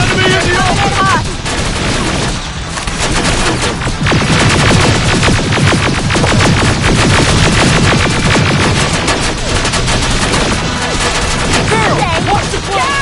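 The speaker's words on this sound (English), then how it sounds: "Keep firing!" Sustained heavy gunfire in the Terminator Resistance video game, dense overlapping machine-gun bursts and shots filling the scene loudly without pause, with occasional shouted voices mixed in.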